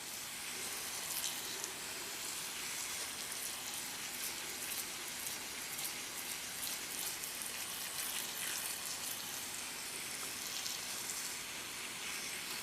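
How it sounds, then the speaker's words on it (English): Water poured from a watering can onto an Echeveria succulent, a soft, steady patter and hiss like light rain, continuous and fairly faint with no talking. "I'm just going to keep talking, so that way you know that I'm watering this fully."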